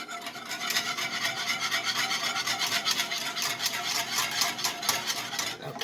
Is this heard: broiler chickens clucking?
no